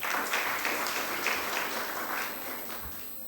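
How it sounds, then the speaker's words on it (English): An audience at a school debate competition applauds, a steady wash of clapping that stays even for a few seconds and then slowly eases off. "a round of applause"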